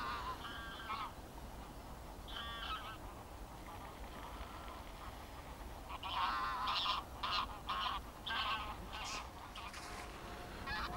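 Geese honking at a distance in morning fog in the Lower Oder Valley National Park in late September, scattered calls at first, then a busier burst of overlapping honks over a low, steady background.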